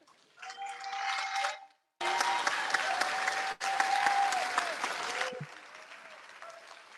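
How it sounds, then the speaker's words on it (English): Hundreds of people at a Lahaina community disaster recovery meeting applaud a five-year-old, bursts of dense clapping broken by brief pauses, with a voice speaking through the applause. "the hundreds of people here applauding this 5-year-old and all of the keiki"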